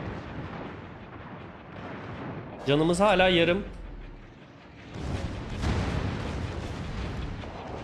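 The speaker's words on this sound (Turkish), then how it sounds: "Tamam roket geldi an patladı bu." Rumbling booms and blasts of rocket explosions from the naval game World of Warships roll through the clip, with a voice speaking briefly over the noise.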